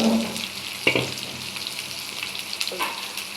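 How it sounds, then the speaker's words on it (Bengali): Chopped raw onion and green chili sizzle steadily in hot oil, a close, continuous hiss broken by a sharp clatter near the start and a few soft stirring knocks later. "মরিচ দিলাম, এটা একটু তেলের সাথে ভাজা দিয়ে নেব।"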